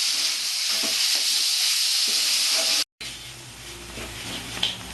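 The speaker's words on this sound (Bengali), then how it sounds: "এই কিমাটা আমি অনেকক্ষণ ধরে করবো কিমাটা গন্ধ ছাড়া পর্যন্ত আমি কষবো" Mutton keema sizzles and spits as it is fried and stirred in a pan, a steady bright hiss that cuts off briefly, then returns with stirring scrapes and a quieter crackle.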